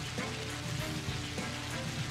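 A rain effect preset from the HitFilm 4 Express editing program, a steady broadband hiss of falling rain pattering evenly throughout with no pauses, fairly quiet and continuous.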